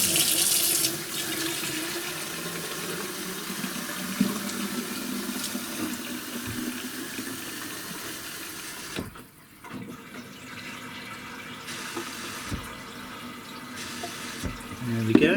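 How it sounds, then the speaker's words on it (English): Hot water from a tap pouring into the tank of a Bissell Crosswave floor cleaner, a continuous hissing rush that dips briefly midway before resuming steadily. "hot water from the tap."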